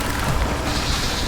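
Confringo spell explosion in Hogwarts Legacy, a short dense blast of booming noise that fills the moment and fades quickly, with no talk.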